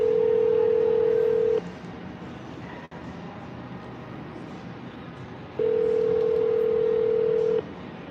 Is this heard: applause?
no